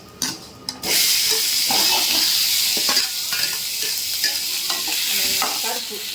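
Black urad dal roasting in hot oil for pirandai (veldt grape) chutney gives a steady, bright sizzle with stirring scrapes, starting after a few short clinks and continuing close and loud throughout.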